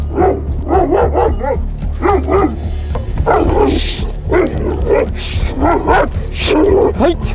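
Several shepherd dogs, Kangals guarding an unfamiliar flock, bark repeatedly, loud and close, in overlapping bursts with some higher yips mixed in, against a constant low engine-like hum.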